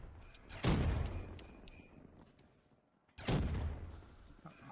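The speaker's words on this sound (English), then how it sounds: "I love explosive guns." Two loud, booming explosive gun blasts fire about two and a half seconds apart in Black Ops 3 Zombies on a Christmas-themed Highrise map, each with a sharp crack and rumbling decay over faint game ambience.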